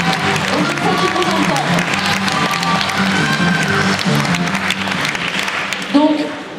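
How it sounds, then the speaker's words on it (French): Audience applause at the Julia Verlanger prize award ceremony, a steady dense clapping that carries on for the whole stretch while a speaker's voice talks over it. "Il va falloir applaudir."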